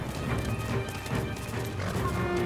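Horses galloping in Ghost of Tsushima, a dense steady drumming of hooves with a faint whinny, continuous and fairly loud throughout the brief stretch.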